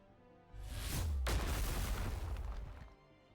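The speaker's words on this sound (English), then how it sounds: "There is a cacophonous explosion as the wall is entirely vaporized out of existence." A cacophonous explosion in the video game Nikke: Goddess of Victory blasts apart a crystal wall, a loud sustained roar with a sharp crack partway through that rumbles on for about two seconds before fading.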